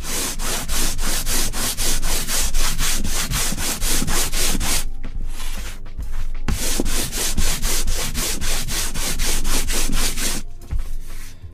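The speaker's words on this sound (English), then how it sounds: "now I'm just taking a block of 220 grit sandpaper" A 220 grit sandpaper block rubbed over a gessoed canvas in fast, regular back-and-forth scratchy strokes, loud and close, with a short pause partway through and another near the end.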